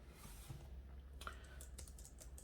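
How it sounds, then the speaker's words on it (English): Quiet key taps on a Logitech MX Keys for Mac keyboard, a soft, scattered run of clicks over low background hum, fairly close. "So the typing experience seems very good."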